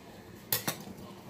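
Two quick sharp knocks of a manual food processor blade being whacked to free a yogurt and avocado dip, loud and close, with quiet room tone around them.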